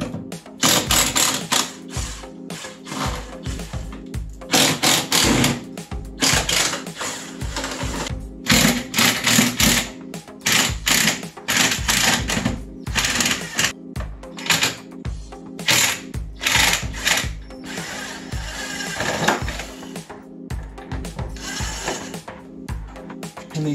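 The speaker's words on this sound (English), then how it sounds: "we have a few fasteners we need to remove first before we can take the bumper off" Power driver spinning out fasteners on the bumper of a 2002 Arctic Cat ZR 600 EFI snowmobile, T25 Torx screws, in repeated loud whirring bursts of a second or two separated by short pauses.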